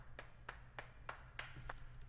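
Claps from an electronic music loop with a touch of reverb, six evenly spaced bright hits roughly every third of a second, each with a short airy tail, played alone at moderate level.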